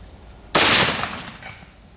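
A single loud rifle shot fired outdoors while hunting in Colorado, a sharp close crack followed by a decaying echo that rolls off over about a second.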